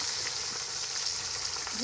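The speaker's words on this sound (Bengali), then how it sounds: "দেখো মাছ ভাজা হচ্ছে" Fish sizzles in hot oil over a wood fire with a constant, close crackling hiss.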